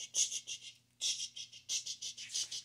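A voice imitates a steam train chugging, breathing out rhythmic, hissing "ch" bursts in quick regular pulses with one brief pause, close and fairly quiet.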